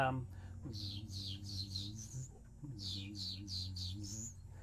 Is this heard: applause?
no